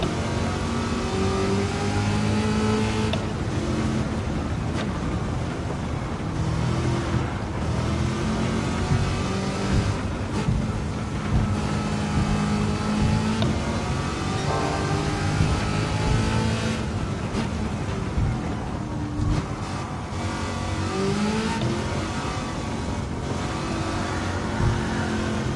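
A Corvette C8 in Gran Turismo 7 revs hard and loud, its engine note climbing and dropping through repeated gear shifts across a continuous driving run, with no voices heard.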